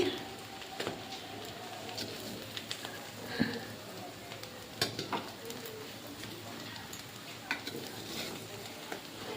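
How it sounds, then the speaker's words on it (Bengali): Homemade biriyani is turned over in a cooking pot with a spoon, giving scattered scraping clicks and soft shuffling over a faint sizzling hiss. It stays close and fairly quiet throughout. "ঢাকনা খুলে নিলাম এবার একটু উল্টিয়ে দেখছি"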